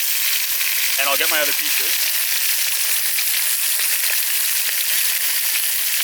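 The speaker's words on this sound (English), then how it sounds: "I'm just searing the outsides nice and hot to get a bit of a brown skin on it" Venison shank sears in a hot pan over an open fire, a steady loud sizzle and crackle that runs throughout while someone speaks briefly near the start.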